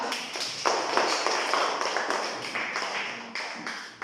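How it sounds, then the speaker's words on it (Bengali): Children applauding together in a classroom, a dense burst of hand claps that carries on steadily for several seconds at close range. "একটা হাততালি দাও"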